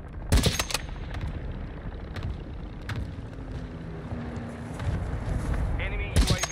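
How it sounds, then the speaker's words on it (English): A friendly mortar strike in Call of Duty MW2 Ground War lands as a few heavy, booming impacts spaced seconds apart, with rumbling battlefield noise and a voice talking between them. "Friendly mortar strike inbound."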